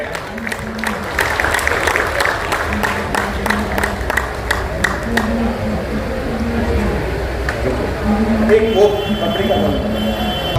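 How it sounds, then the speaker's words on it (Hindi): An audience at an international Arya Samaj conference in Delhi claps in scattered, uneven bursts, with a public-address voice speaking over the applause. "तालियों से स्वागत करें।"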